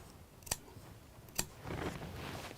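Scissors snip twice in quick succession, sharp close clicks around a craft cutout, followed by a soft rustle of paper or fabric.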